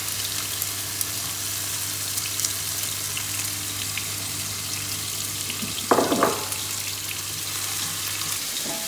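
Apple slices cook in a pan with a continuous, even sizzle over a low hum, broken near the end by a brief scraping clatter of utensils.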